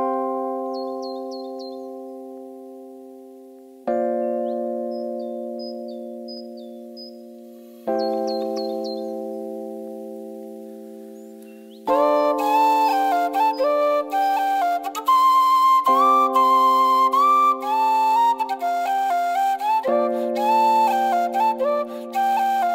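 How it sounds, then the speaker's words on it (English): Scottish bagpipes and whistle play a tune together: sustained drone-like chords swell and decay in sections, then a bright, busy melody with ornamented runs rides over steady held notes, fairly loud and without any talking. "Featuring Bradley's bagpipes and whistle"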